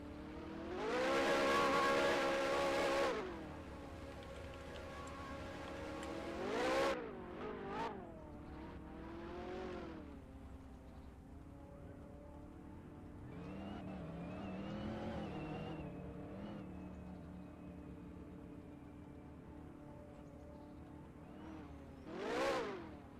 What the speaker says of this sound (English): It's actually Ferrari doing donuts. 2 Ferraris.